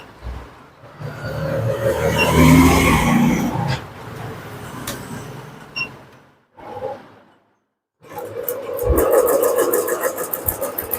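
A sewing machine stitching zari thread runs in uneven bursts, a rough motor whir that pauses briefly, stops fully for a moment, then starts up again loud and close.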